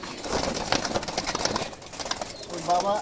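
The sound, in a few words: pigeon cooing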